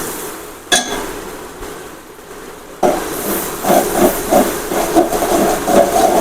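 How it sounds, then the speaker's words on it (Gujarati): Garlic chutney sizzles as it is sautéed in hot oil for a chana dal curry. After a quiet start and a single clank, a loud, close, hissing sizzle bursts in and carries on steadily, with no voices. "હવે તેને સારી રીતે સાંતળી લેશું"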